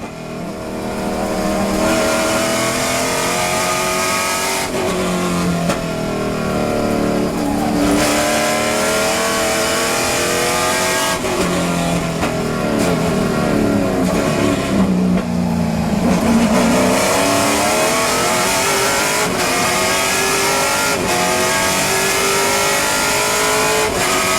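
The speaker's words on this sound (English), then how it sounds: "these cars just sound so good. I want you to hear the engine noise of the" A Trans Am race car engine roars loudly and continuously, revving up and down through gear changes as it speeds around Laguna Seca raceway during a race.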